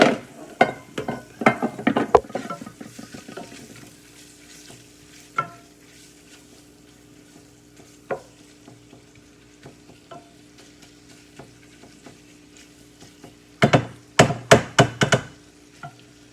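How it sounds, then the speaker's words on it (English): Bacon cooking down in a pan for charro beans, with scraping stirs and utensil clacks in bursts at the start and end and a soft background sizzle between them. "We're just waiting on the bacon to cook down"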